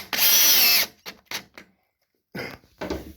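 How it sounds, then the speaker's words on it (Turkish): A power screwdriver drives a screw into the frame of a cat fly screen: one loud sustained whirring burst, then several short buzzing pulses and two later bursts, close and alone. "Şimdi ikinci vidamı da atıyorum"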